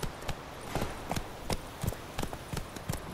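Roach, the horse in The Witcher 3, gallops on firm ground with steady hoofbeats in a quick three-beat rhythm. The hooves sound close and clear, with a soft background wash and no talk.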